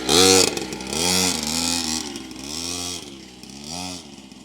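A motorbike engine revs in repeated loud surges, each throttle blip rising and falling in pitch, close and prominent with no talk over it.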